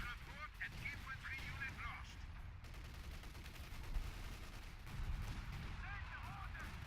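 Steady artillery and gunfire rumble through a World War II battle for Caen and Colombelles in a strategy game, heavy low booms rolling on continuously with bird-like chirps scattered above.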